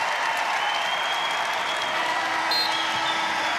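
Steady, loud applause and cheering from a college wrestling crowd in Reynolds during NC State versus Virginia, sustained without a break and with no talk over it.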